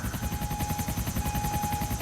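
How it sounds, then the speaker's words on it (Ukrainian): Helicopter rotors in GTA: The Lost and Damned beat in a continuous rapid chop over a droning engine hum, loud and near, with no talking. "Точніше два гелікоптера."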